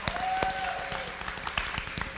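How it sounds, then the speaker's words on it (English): Audience clapping for a speaker, a short scattered round of hand claps, moderately close, with a faint tone and room murmur behind it. "Y'all give her a big hand clap"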